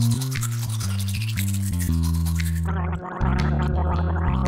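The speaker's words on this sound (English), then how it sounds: "Pinkerton really needed to brush his icky teeth" A toothbrush scrubs teeth in a brisk, continuous back-and-forth rhythm, loud and close, set against a bouncy musical tune.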